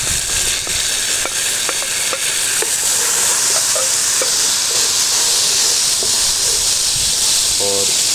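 Tomatoes frying in a pan for chicken kofta curry, a loud continuous hissing sizzle close up, with a few spoon scrapes and taps early on as they are stirred.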